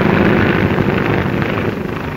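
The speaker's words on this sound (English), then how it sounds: "It's a mass takeoff." Army Air Corps military training planes from 1939 make a mass takeoff, their propeller engines giving a loud, steady, continuous roar with no breaks.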